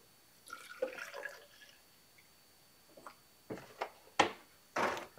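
Water is poured into a blender holding kale and spinach for a smoothie, heard as a few short, faint splashing and trickling bursts with quiet gaps between them, close by in a quiet room.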